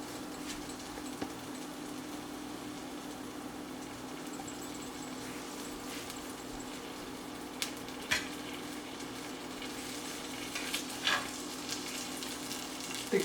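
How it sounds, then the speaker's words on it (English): Kale with oil sizzles and fries in a skillet, a continuous soft crackling hiss with occasional light clicks of a utensil, close up and without talk. "Starting to sizzle."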